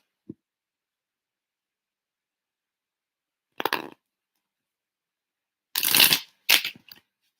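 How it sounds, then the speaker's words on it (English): Tarot cards shuffled by hand during a live tarot reading: three brisk, close riffling bursts after a long quiet stretch, with a tiny tick near the start and no talking. "Let me go ahead and shuffle these cards again"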